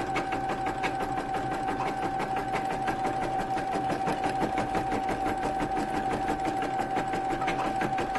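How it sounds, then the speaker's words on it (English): A Brother Innovis 1500d embroidery machine stitches at a steady fast rhythm, a continuous even mechanical whir with a faint tonal hum, fairly quiet and with no voices. "I've never been able to compare the sound of this embroidery machine with any other"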